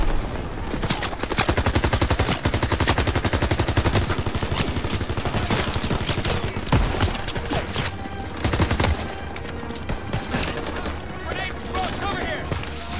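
Rapid Call of Duty WW2 gunfire, dense bursts of machine-gun and rifle shots crackling almost continuously for the whole stretch, loud and close.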